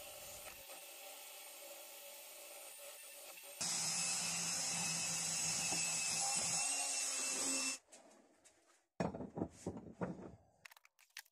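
A wire brush on an angle grinder scours the jaws of a vintage Record No. 74 auto vise, giving a harsh, loud, steady scrubbing whir that stops and then returns in shorter, choppy bursts.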